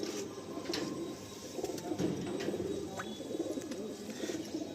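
Pigeons cooing inside a loft, a soft, repeated low burbling that rises and falls continuously, with a few faint chirps and light rustles on top.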